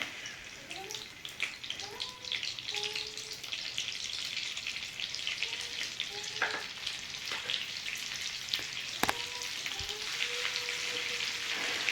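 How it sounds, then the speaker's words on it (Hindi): Butter sizzling in hot oil: a steady frying sizzle with crackling pops throughout, fat spitting in a hot pan, with faint clinks and scrapes of a utensil. "ऑयल हो चुका है गरम। इसमें हम ऐड करेंगे थोड़ा सा बटर।"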